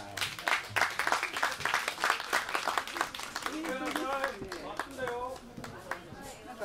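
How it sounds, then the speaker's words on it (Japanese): Audience applause welcoming a performer on stage, heard as a burst of loud, rhythmic clapping from a crowd that thins out as a voice begins speaking over it. "大きな拍手でお迎えください。"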